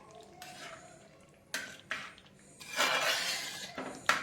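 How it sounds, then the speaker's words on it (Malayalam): A spoon scrapes and clinks against a metal pot while ghee is stirred into thick parippu payasam, a Kerala lentil dessert: several separate scraping strokes build into a longer, louder stretch of stirring, close up with no voices. "അത് നമ്മൾ ഒന്നുകൂടി ഒന്ന് ഇളക്കി കൊടുക്കുക"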